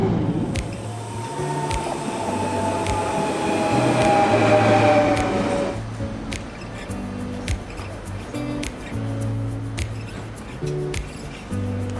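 Trains at Gare Saint-Lazare railway station in Paris, a steady rolling rumble with high wheel squeal that swells and then eases, followed by clanks and tonal hums on the platform.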